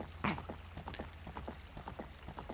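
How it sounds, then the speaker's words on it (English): Hooves clip-clop in a steady trotting rhythm as Epona is ridden in the video game Ocarina of Time, with a brief whinny-like burst near the start; faint and even throughout. "Because it's water and the horse don't like it. She's like, nay."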